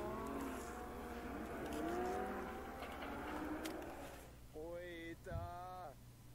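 A Lamborghini engine revs and whines in a car crash clip, pitch sweeping up and down over a steady low hum, then a few sharp rising revs near the end.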